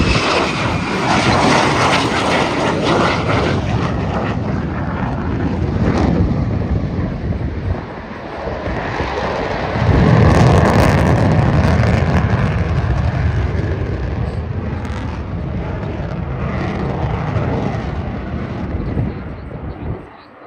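Fixed-wing aircraft flying a go-around at the Avalon Airshow in Melbourne, Australia: a loud, sustained engine roar with wind buffeting that dips briefly, then swells again as the plane passes.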